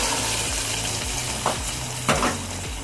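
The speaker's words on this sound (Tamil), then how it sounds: "தாளிச்சு இதை கீரையில ஊத்திக்கலாம்" Steady sizzling and frying hiss from hot oil tempering, with a couple of brief louder crackles as it is poured into drumstick greens, no talking.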